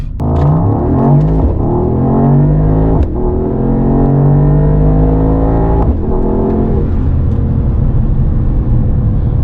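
Mercedes-AMG GT55 engine rumbling loudly from the cabin while driving, a deep continuous drone that rises and falls in pitch through gear changes, with short breaks around shifts; no talking.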